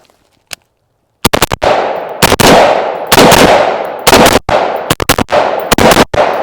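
A handgun fires during shooting practice by a shooter in full tactical gear: one lone shot, then loud, close, rapid bursts of gunshots in quick strings with brief pauses between them.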